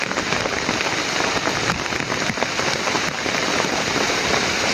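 Heavy rain pouring steadily onto a surface, a dense, loud, unbroken hiss with scattered sharp drop impacts, close by and without pause.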